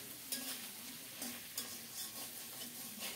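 A rohu fish head fries in hot oil, giving a quiet, steady sizzle broken by a few sharp stirring scrapes and clicks, with no talking.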